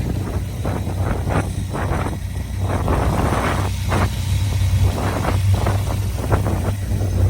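A 2006 Dodge Ram 1500 SRT-10 pickup's V10 Viper engine idles with a steady, smooth low rumble, partly buried under loud, gusty wind buffeting the microphone.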